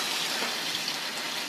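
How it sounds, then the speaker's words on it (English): Water sprays from a hot water hose in snowy conditions, a steady hissing gush that runs evenly and close by, with no talk over it. "This is where the hot water hose makes the most difference."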